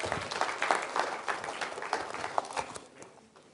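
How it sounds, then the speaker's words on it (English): Audience applause for two boys at a science demonstration on light and colour, a brisk burst of clapping from a modest crowd that thins out and fades near the end. "Give the boys a little round of applause for coming down."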